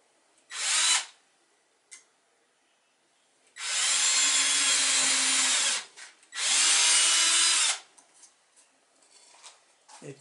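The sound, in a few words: drill boring screw holes in wooden toy boat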